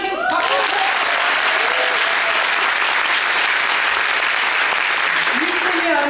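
A theatre audience applauds at the closing-night curtain call of the musical Four Minutes, sustained loud clapping filling the hall, with a voice speaking briefly at the start and end.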